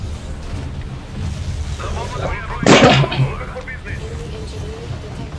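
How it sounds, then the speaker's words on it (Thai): Rocket launcher units firing in the Red Alert 3 strategy game, a single heavy blast in the middle of a busy battle soundscape, with someone talking over the game. "เราก็มีตัวยิงจรวดครับ"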